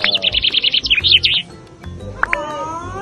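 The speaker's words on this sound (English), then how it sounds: "Look at all the birds." Birds at San Diego Zoo chirp in a rapid run of bright, high tweets up close, then fall quiet before a couple of brief call notes, with faint voices and background murmur underneath.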